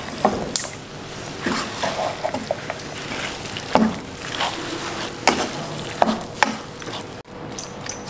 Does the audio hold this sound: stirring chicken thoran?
yes